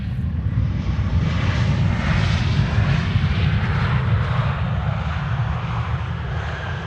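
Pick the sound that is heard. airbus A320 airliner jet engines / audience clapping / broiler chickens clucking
airbus A320 airliner jet engines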